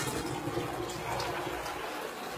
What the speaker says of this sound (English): Hold on, I got a flush.